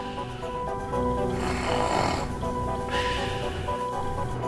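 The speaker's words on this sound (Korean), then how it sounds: "갑자기 코를 골기 시작하는 그녀." A 66-year-old woman snores in her sleep, a loud rasping, snorting inhalation swelling up mid-clip and another starting near the end, heard close over a steady background hum.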